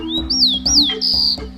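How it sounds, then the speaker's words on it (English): Birds sing in a vineyard in spring, giving several loud, close, bright chirps and rising and falling whistled notes in quick succession. "The birds sing and fly"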